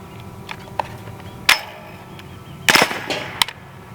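A Hatsan Blitz .30 caliber air rifle fires in full-auto mode: a few sharp, close cracks separated by gaps, with faint ticks and clanks in between, and no voices.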